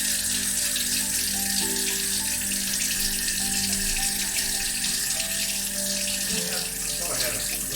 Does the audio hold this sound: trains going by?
no